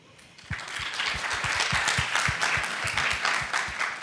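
A school audience at a women-in-data-science panel breaks into steady, dense applause with scattered cheers, rising quickly and holding loud for several seconds.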